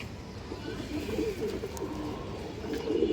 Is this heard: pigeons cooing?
yes